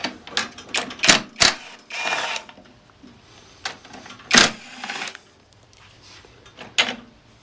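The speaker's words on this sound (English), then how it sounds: "it looks like we've got three 10 millimeter nuts" Tools loosening three 10 mm nuts on the recoil of a Honda-powered Kee commercial push mower, giving irregular close metallic clicks, clanks and short ratcheting bursts with quiet gaps between them, and no talking.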